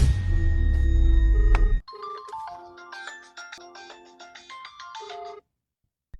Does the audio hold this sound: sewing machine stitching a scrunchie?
no